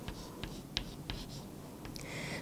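Faint pen-on-paper writing as a math exponent is written by hand, a few light taps and short strokes over a steady background hiss, with no talking.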